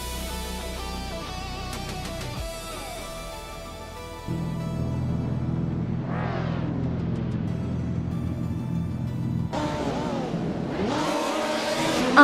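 Race cars revving and pulling away at the start of a game race, including an Alfa Romeo V6, with engine tones climbing through gears, sustained loud rumble and rising whines near the end.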